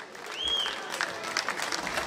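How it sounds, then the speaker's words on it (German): Audience applause at a Leverkusen event, a steady wash of many hands clapping at moderate distance, with a short whistle near the start. "das war toll und das ist Ihr Applaus"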